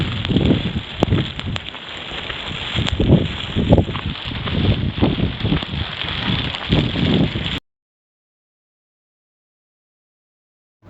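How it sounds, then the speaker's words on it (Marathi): Heavy monsoon rain pours in fog on a jungle trek near Malshej, a dense, loud, continuous roar of water with gusty bursts that cuts off abruptly into silence. "सुरुवात करताच खूप जोराचा पाऊस चालू झाला आहे"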